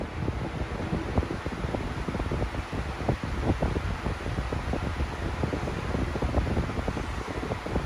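A Lasko 3733 box fan runs steadily, a loud, close whoosh of moving air with a constant broadband rush and slight buffeting.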